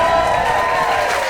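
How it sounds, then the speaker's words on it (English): Comedy-club audience clapping and cheering loudly during a stand-up special, a dense, steady roar of crowd noise from start to finish. "Let's clap for Spike."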